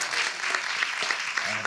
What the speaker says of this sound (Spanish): Les pido un gran aplauso para recibirlos